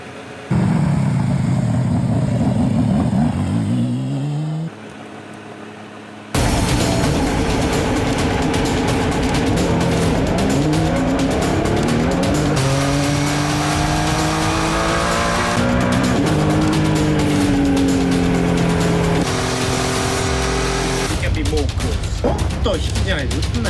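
A racing car attacks a bumpy, fast, winding road, its engine loud and close, revving up and down through the gears with tyre squeal between shifts, after a brief quieter moment near the start.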